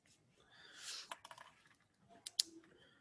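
A pen draws diagonal lines while geometry notes are written: one soft scratchy stroke swells and fades, then a cluster of light taps and clicks, with a sharper tap near the end.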